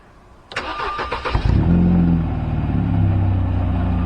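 A car engine, just reconnected after a fault repair, cranks for about a second with rapid starter pulses, catches with a surge, and settles into a steady, close idle that holds to the end.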